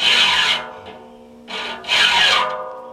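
Steady hand filing of saw teeth, a rough rasping stroke repeated in a rhythm, close and loud with brief pauses between passes.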